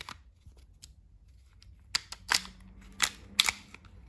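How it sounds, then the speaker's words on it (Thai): WE Hicapa T-rex BB gun firing in a test: after a quiet start, a handful of sharp, close cracking shots land irregularly across the last two seconds, each with a short snappy click and no voices. "ตัวนี้ทดสอบคร่าวๆนะครับ จะค่อนข้างยิงแรงนะครับ"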